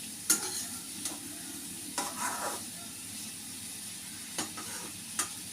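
Pickle seasoned with Kashmiri chilli powder sautés in a pan, a faint steady sizzle broken by several soft stirring scrapes spaced a second or so apart.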